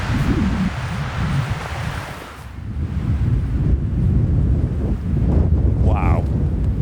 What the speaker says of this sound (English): Feeling that northeasterly wind now that the trees have been protecting me from all that way.